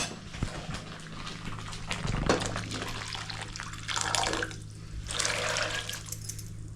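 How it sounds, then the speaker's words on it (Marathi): Pea cooking water poured into a hot pan in a home kitchen, a steady close splashing and gurgling stream with a brief sizzle burst, running alone for several seconds in bursts. "आता याच्यामध्ये हे आपलं वाटाण्याचं पाणी ओतायचं, वाटाण्याचं कट."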